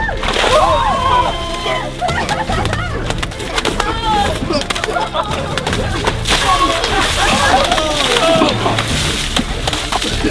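Water splashes and sloshes continuously onto someone, with excited voices shouting and reacting throughout.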